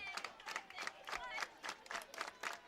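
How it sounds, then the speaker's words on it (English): Oak Ridge baseball fans clap together in a steady, even rhythm during an extra-inning high school game against Clarksville, the claps faint and distant, spread across a crowd. "Oak Ridge fans clapping in unison once again"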